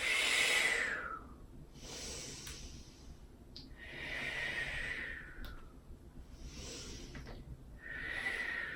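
Slow, deep breaths during a morning warm-up exercise, three or four long airy inhale-and-exhale cycles, close and fairly soft, with no talking.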